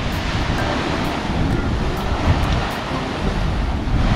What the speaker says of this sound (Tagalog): Yun ang lakas ng alon no. Lakas ng alon oh.